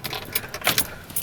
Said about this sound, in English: so let's just turn off the car.